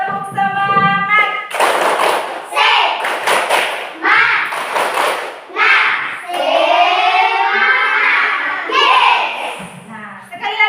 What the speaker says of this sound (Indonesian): Ayo, silakan berdiri. Masih ingat dengan tepuk semangatnya?